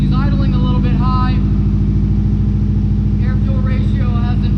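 A Subaru WRX engine, recently blown up and revived, idles slightly high just after its first start, a steady loud low rumble running throughout while a person talks over it.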